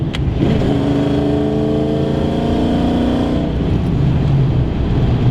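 A 2001 Mustang GT with a swapped Coyote 5.0 V8 revs hard and roars continuously, loud and close, its pitch climbing and then settling into a deep rumble.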